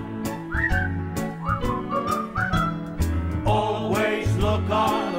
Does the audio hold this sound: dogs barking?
no